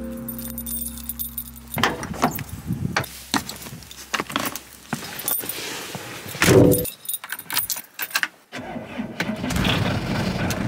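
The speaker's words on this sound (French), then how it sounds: "Il démarre, il marche bien et il fait un beau bruit de tracteur." Keys jangle close by in an old van, then the engine cranks, catches and settles into a loud, rough, tractor-like running rumble that continues to the end.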